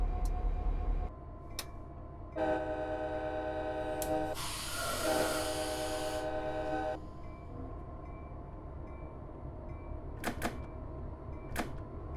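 Train departing Los Angeles Union Station in Train Simulator 2015, a loud horn blast over a steady engine hum, followed by a low rumble with scattered clicks from the cab.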